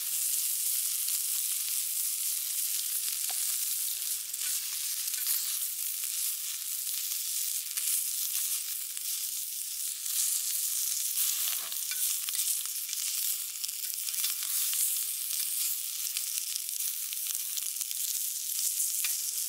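Homemade bacon frying in a pan until crisp: a steady, close, bright hiss of sizzling fat with scattered crackles and pops, continuous with no voices.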